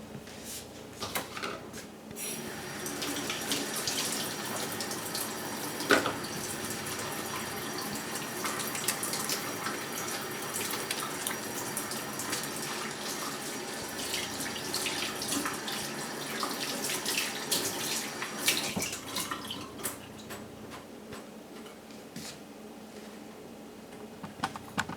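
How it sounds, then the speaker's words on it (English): Tap water runs steadily into a kitchen sink as hands are washed, a continuous broadband splash lasting about twenty seconds with occasional clinks and knocks, close and fairly loud, with no talking. "So I'm going to wash my hand."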